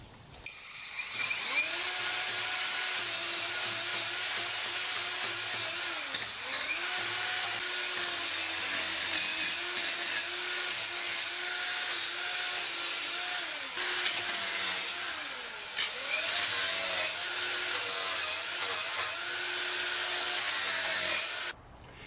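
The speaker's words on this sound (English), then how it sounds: "I'm just going to use my angle grinder with a sanding wheel and both distress this a little bit" An angle grinder fitted with a sanding wheel distresses the wood of a homemade pillory, a steady loud high whine running almost continuously with brief dips as the tool moves across the surface.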